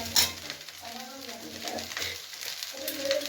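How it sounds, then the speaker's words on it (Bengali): A spatula stirs and breaks up fried egg through leftover fried rice in a pan, giving a soft continuous scrape with a light sizzle, close up and steady, with a brief clatter at the start. "ডিমটাকে খুব ভালো করে কুচিয়ে নিচ্ছি"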